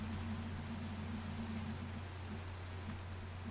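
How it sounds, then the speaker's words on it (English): Rain falls steadily outside a window in Minecraft with the Minecolonies mod, a soft, even hiss under a low hum, faint and continuous throughout. "outside the window where it's raining"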